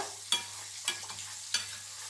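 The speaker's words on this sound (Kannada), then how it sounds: "ಸ್ವಲ್ಪ ನೀರು ಹಾಕಿ ಬೆಲ್ಲನ ಕರಗಿಸ್ಕೋಬೇಕು" A spoon stirs jaggery melting in a little water in a pan for jackfruit halwa, making three distinct scraping strokes over a faint low simmer, close and quiet, with no talking.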